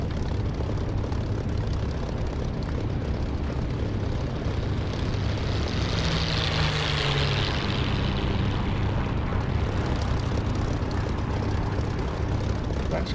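A P-51 propeller fighter takes off in the DCS flight simulator, its engine a loud continuous roar that holds steady and swells a little in the middle, alone without talk.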